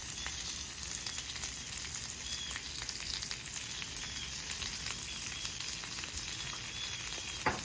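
Country fried steak sizzles in hot grease on a flat top grill, a dense, steady crackling hiss that holds evenly throughout with scattered pops and no voices.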